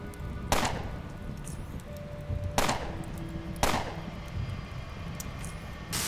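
Three sharp, loud gunshots ring out at irregular intervals in the video game Underrail, standing alone over a low steady background hum with no talking.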